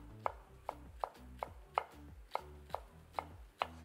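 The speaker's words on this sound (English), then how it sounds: "I'm going to cut up, chop some green onion" Green onion being chopped with a knife on a cutting board, about nine crisp, evenly spaced knocks in quick rhythm, close and clear with no talking.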